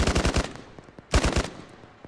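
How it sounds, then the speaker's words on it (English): Machine gun fire in Arma on the Chernarus map: two loud, close bursts of rapid automatic shots, the first about half a second long and the second after a short pause, with no talk. "That was an MG there"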